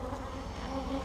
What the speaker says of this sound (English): A lot of bees in this hive